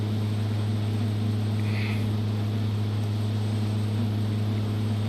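Pilatus PC-12 turboprop climbing in the X-Plane 12 simulator, a loud steady propeller drone with strong low tonal hum and broad engine rush, unvarying and continuous with no talk.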